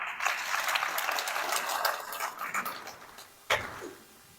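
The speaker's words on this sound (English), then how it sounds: "please clap for them" Conference audience at a Nairobi member education day applauding, a dense patter of many hands clapping steadily for several seconds before tapering, with a sharper burst near the end.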